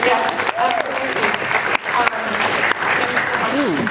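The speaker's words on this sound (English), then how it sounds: "Clap for love, right?" Audience applause at a school talk, dense clapping filling the space loudly, with some voices and cheering mixed through the crowd noise.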